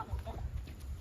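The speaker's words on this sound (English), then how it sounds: "She's a silver-laced Polish hen" A silver-laced Polish hen, smaller than the full-grown chickens around her, clucks softly in short low bursts close by, with faint farmyard background.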